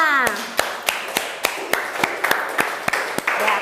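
A classroom of students claps together in a steady rhythm of about a dozen sharp, evenly spaced claps, close and loud, while a voice speaks over the first part.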